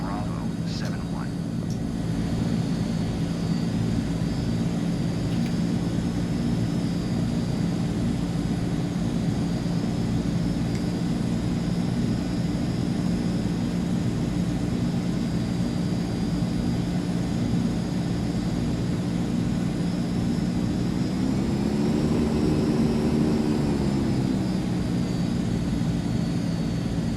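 A Transall C-160R military transport aircraft taxiing in Microsoft Flight Simulator 2024, its engines giving a steady, loud droning hum throughout with a slight rise in pitch near the end.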